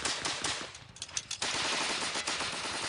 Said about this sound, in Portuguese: as metralhadoras Gatling, usadas naquela época, tinham 10 canos rotativos e podiam disparar de 300 a 900 tiros por minuto